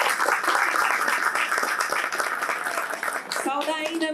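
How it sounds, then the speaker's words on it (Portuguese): Applause from an audience at a book launch at a political gathering, full and steady, with a voice speaking over it toward the end. "Palmas, gente, pro livro"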